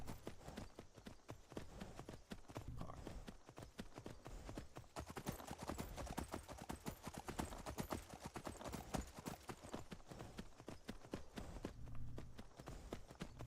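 Horse hooves clip-clop steadily and continuously while riding in Skyrim, a dense, even walking-to-trotting rhythm close up with no talk over it.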